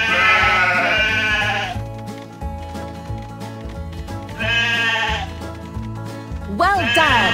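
Sheep bleat in several loud bursts in the game Paw Patrol Academy, over cheerful electronic music with a steady beat, game-like and bright.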